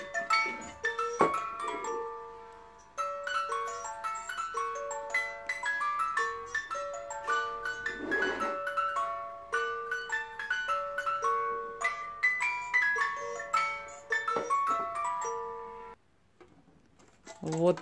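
Wound-up music box in a German Christmas cookie tin plays a tinkling plucked-comb melody, bright and fairly close, running steadily before slowing and pausing near the end.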